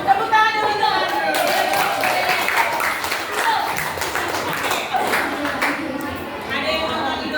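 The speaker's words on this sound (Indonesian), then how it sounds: "Tepuk tangan untuk Andre." An indoor audience applauds for Andre with steady, dense clapping that fills the room for several seconds. Voices and chatter run beneath the clapping throughout.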